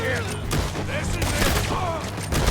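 Dense, continuous gunfire from a frontier shootout in Red Dead Redemption 2, with rapid overlapping shots and booms, loud and close, under shouting voices.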